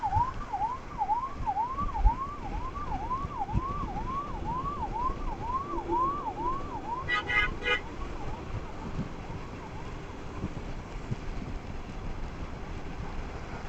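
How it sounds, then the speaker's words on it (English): Ambulance siren wailing on a hill road between Madanapalle and Horsley Hills, a steady rising-and-falling cycle that carries over traffic noise for about nine seconds before fading, with a short burst of horn midway. "Let the ambulance give the way."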